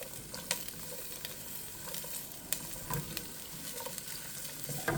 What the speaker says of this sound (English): we're just going to get that stirred up in here